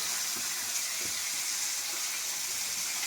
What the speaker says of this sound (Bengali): আর এদিকে আমি এই তেলাপিয়া মাছগুলো ভাজছি, এগুলো লাল লাল করে ভাজতে হবে